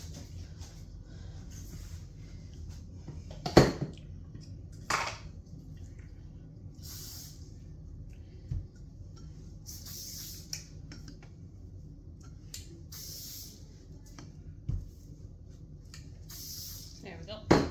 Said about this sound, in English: Forgot to spray my rolling pin down.